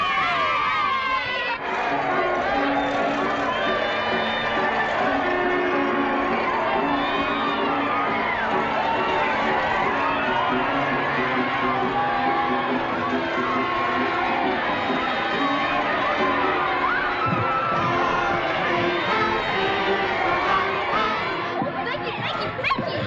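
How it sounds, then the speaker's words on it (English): A crowd cheering and chattering excitedly in a 1939 film, a dense, continuous wash of voices and laughter with individual shouts rising out of it. "Do you hear the cheering?"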